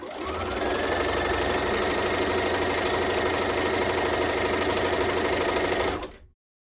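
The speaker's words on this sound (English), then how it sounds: "I zigzagged all the way around the outside of the snowflake until I got back to the beginning again, and I did a little tack stitch" A sewing machine runs a zigzag stitch around a fabric snowflake, a fast continuous mechanical whirr and clatter that holds steady for several seconds before stopping abruptly.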